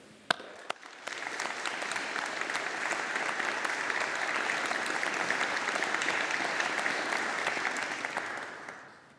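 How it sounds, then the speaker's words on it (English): A steady round of audience applause fills a university engineering graduation ceremony, rising after a couple of sharp early claps, holding evenly for about seven seconds, then fading out. "Let us take the opportunity to show our appreciation and gratitude with a round of applause"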